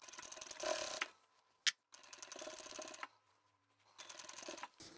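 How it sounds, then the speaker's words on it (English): A home sewing machine stitches a seam on a large craft bag in three short, quiet bursts of rapid mechanical chatter separated by pauses, with one sharp click between the first two runs. "I'm sewing over a lot of bulk where my handle is"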